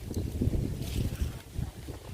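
Wind gusts across an open vegetable garden in the evening, rumbling and buffeting the microphone in uneven surges that rise and fall without any talk.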